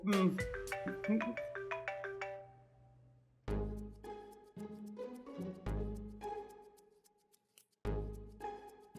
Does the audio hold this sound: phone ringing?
yes